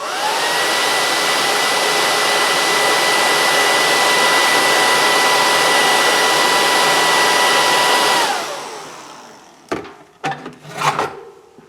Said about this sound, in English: with my hair dryer now. I'm going to dry that out